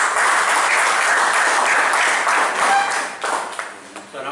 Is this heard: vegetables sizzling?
no